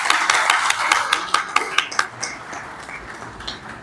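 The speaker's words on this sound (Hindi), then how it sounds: "इसमें तो जरा ज्यादा गूंज से तालियां होनी चाहिए।" Applause from an audience at the FCCI annual general meeting ceremony, a burst of brisk, distinct hand claps from a modest group that thins out and fades over a few seconds.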